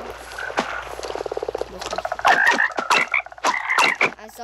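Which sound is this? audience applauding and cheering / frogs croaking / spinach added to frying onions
frogs croaking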